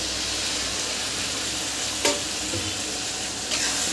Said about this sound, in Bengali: পেঁয়াজটা ভাজা ভাজা হয়ে গেছে এবার আমি তৈরি করে রাখা মশলাটা দিয়ে দেবো